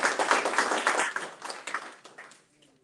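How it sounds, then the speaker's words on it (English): An audience at a bicentennial community event applauds an honorable guest being called up to speak, a burst of clapping that is strong at first, thins out and fades to near silence by the end. "Please give her a round of applause."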